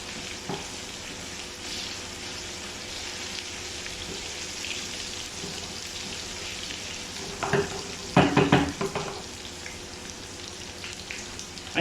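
Cumin seeds and ginger fry in hot oil as a tadka for moong dal, giving a steady close sizzle with a few sharper crackling bursts near the end.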